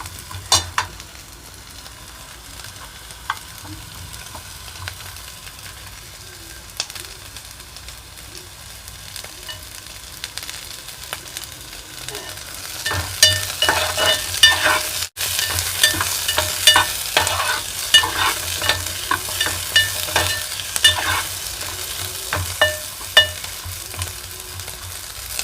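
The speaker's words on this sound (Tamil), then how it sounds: "சின்ன வெங்காயத்தை நம்ம முழுசாக போட்டிருக்கோம் உரித்து. இது நல்லா வதங்கட்டும்." Whole peeled small shallots sauté in a hot pan as a spoon stirs them, a low steady sizzle that grows brighter and busier partway through, with scattered clinks and scrapes and no talk.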